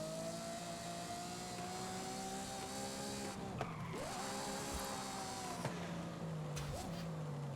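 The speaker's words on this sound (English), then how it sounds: "I just wheelie a Ferrari." A Ferrari in a driving video game, its engine droning steadily with rising and falling pitch and occasional tire squeals and skids, moderately loud throughout with no talking.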